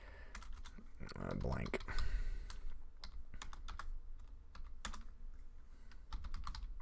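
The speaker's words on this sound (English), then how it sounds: "That's a lot of typing to get a blank." Rapid typing on a computer keyboard during a Python programming lesson, a steady run of sharp clicks throughout, partly under a man's speech.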